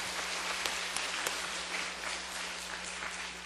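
A church congregation claps together in sustained, dense applause, many hands close and far blending into a steady wash, with a low hum running beneath.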